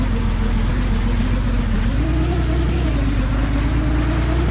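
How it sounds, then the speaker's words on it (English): A loud, steady car engine hums and drones throughout, its pitch rising slightly partway through as if revving. "This car is loud."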